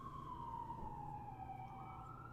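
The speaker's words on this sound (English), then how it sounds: "here we have a siren going by, if you can hear that. Yeah. That's a paramedic ambulance." A paramedic ambulance siren passes by, its faint wailing tone sliding slowly downward, distant and thin over low background noise.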